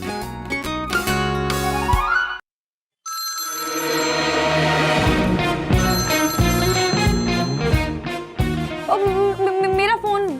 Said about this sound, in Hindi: मेरा फोन बज रहा है, लगता है वो मुझे कॉल कर रहे हैं।